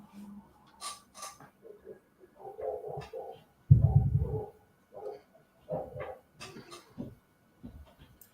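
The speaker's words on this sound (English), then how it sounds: "It's our noisy neighbours' dogs." Neighbours' dogs barking in the background, scattered bursts and yelps at moderate distance with one louder, longer bark in the middle, recorded indoors.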